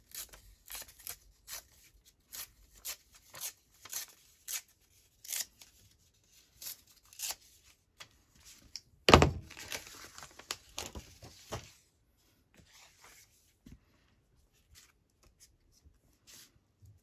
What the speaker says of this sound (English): I'm going to actually rip that bit off.